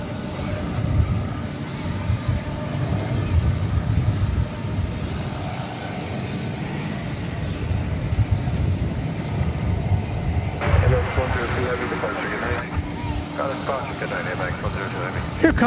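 Steady low roar of jet airliner engines running nearby at Dallas Fort Worth Airport at night, a continuous rumbling drone with a whine rising partway through, no voices.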